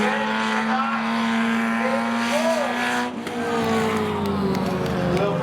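Chevrolet Camaro drag racing at Seekonk Speedway, a steady engine drone heard from a distance with a tone that climbs as the car accelerates, an announcer talking over it.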